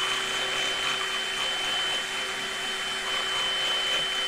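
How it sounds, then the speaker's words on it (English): A cordless drill with a 5.5 mm bit slowly enlarges a hole in a 1/6 scale Armortek Hetzer Jagdpanzer 38 hull, giving a steady, moderately quiet motor whine that holds an even pitch throughout. "And now I'm just going to use the drill, excuse the noise, just to slowly open that hole up."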